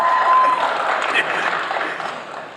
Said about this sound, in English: Smattering of applause there.